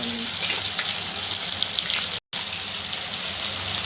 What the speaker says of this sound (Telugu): తర్వాత ఉల్లిపాయలు వేసుకోవాలి.